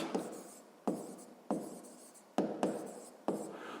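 A pen scratches out a maths formula for the area of a circle, five quick strokes each starting with a sharp tap and trailing off in a soft rasp, close and quiet with no voices.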